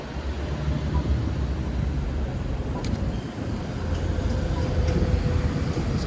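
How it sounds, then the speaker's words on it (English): A tram passing along a city street, a steady low rumble with a faint rising hum as it goes by, moderately loud, with no talking. "Let's get one photo of the tram"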